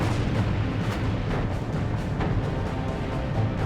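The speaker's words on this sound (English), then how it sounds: "Destroyer USS Laffey closes in alongside battleship PA and rakes her decks with rapid-fire 5-inch shells and machine guns." Heavy naval gunfire from a destroyer's rapid-fire 5-inch guns and machine guns raking a battleship at close range, a dense continuous barrage of booms and bursts with no pauses.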